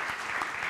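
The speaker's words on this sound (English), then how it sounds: "I would like to start my speech asking for a round of applause to our youth" A short burst of dense audience applause for young people at a public event in Italy, steady and fairly loud, with no talk over it.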